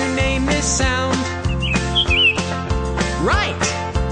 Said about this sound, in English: the birds go as they fly around the farm